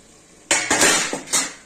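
A metal lid lifted off a cooking pot of spinach, potato and eggplant curry, giving a few sharp, close clanks and rattles in quick succession after a short quiet moment.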